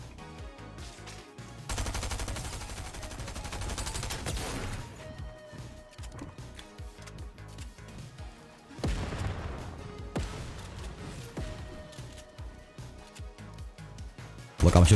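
SMG gunfire in the Fortnite video game comes in repeated rapid bursts over game sounds, rising in two louder stretches, with faint talk at times.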